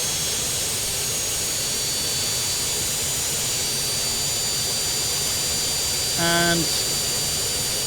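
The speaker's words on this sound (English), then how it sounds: "You can hear the jets just firing up there" Phenom 100 jet engines running in a flight simulator, a steady broadband whine and roar holding throughout, with a brief tonal chime and a single spoken word near the end.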